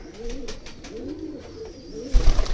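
Pigeons at a pigeon sale in Kathua, Jammu coo in soft, repeated rolling calls close by, three or four phrases in a row, with a rustle or bump near the end.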